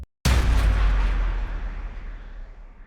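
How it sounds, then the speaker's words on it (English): One heavy cinematic impact sound effect for metal music hits hard with a deep booming low end, then decays into a long rumbling tail. "Then this is an impact sound."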